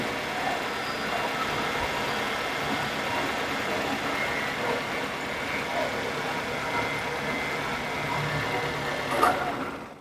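A car engine idles slowly at low RPM after its magnet was replaced, making a steady, even mechanical hum with a faint tonal drone that holds constant, with one brief louder blip near the end.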